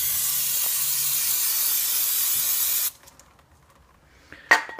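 Brake cleaner sprayed onto the front brake caliper of a 1996 Honda CR-V, a steady loud aerosol hiss lasting about three seconds, then cutting off to quiet workshop handling noises and a short sharp clack.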